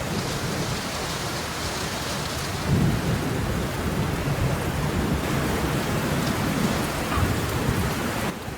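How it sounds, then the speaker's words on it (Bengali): Heavy rain pours in a dense, steady hiss, while low thunder rumbles underneath throughout, loud and close with no let-up. "ওই দেখ কি জোর বৃষ্টি নামছে"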